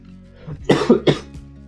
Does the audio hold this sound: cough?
yes